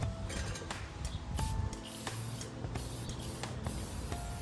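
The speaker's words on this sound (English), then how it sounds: "When you spray, you wanna go like in a sweeping motion" An aerosol can of tire shine hisses in several short spray bursts, close up, with faint clinks and handling noises between them.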